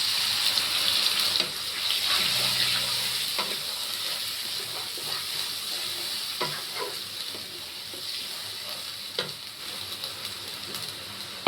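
Ginger, cumin, garlic, green chilli and onion paste sizzles loudly as it hits a hot pan, with stirring and scraping scattered through a constant frying hiss and no talking.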